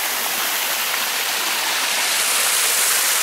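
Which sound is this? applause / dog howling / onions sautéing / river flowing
river flowing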